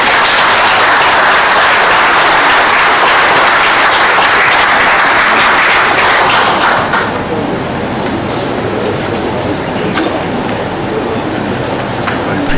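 Ceremony audience at a New Year's wishes presentation bursts into loud, dense applause for a minister, sustained for several seconds before dropping to a quieter room with scattered sounds.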